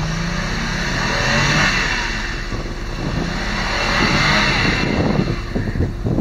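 A track loader's engine revs hard as the machine drives, rising and falling in loud surges close by, with clanking from the tracks toward the end.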